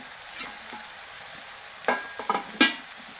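Red chilli powder sautés in oil for a dahi tadka, a low sizzle under a few sharp stirring scrapes and clinks of a spoon against the pan, close and unaccompanied by voices.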